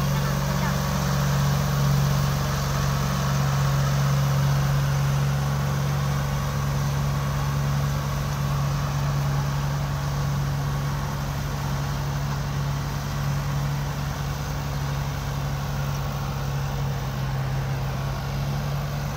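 A John Deere tractor engine runs at a steady low idle-like drone with a constant hum, close by, while people talk over it throughout.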